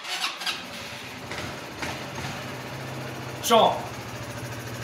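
A Jonway Master 250 motorcycle engine turns over and settles into a steady low idle, with a brief squealing burst partway through and a voice speaking over it.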